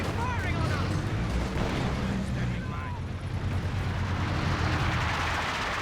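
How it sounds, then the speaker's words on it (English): A B4 artillery shell impact in Company of Heroes 2 gives a heavy, rumbling blast over dense battle noise. Someone talks over it. "That was a B4 shell, and I think it just landed on the top of this."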